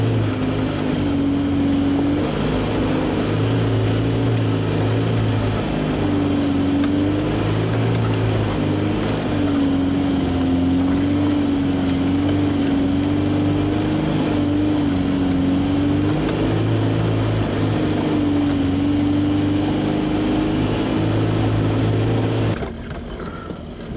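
An off-road vehicle's engine drones steadily in second gear at Rowher Flats, loud and close with wavering tonal pitch and wind or rumble around it, running unbroken for over twenty seconds before a brief drop at the end.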